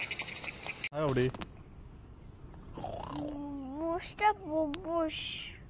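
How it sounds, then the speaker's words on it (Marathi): Crickets chirp at night under cloudy skies before rain, on a trip to Vajrath near Vengurla: a steady, high, shrill chorus rings loud for the first second, then continues faintly beneath voices and other short tonal calls. "त्यात रातकिड्यांचा आवाज असा कानाला मुग्ध करणारा आवाज आहे बघा"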